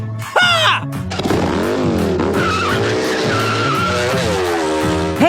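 A fast car skids with tires squealing, a long wavering screech that bends in pitch over a low revving engine, loud and close throughout.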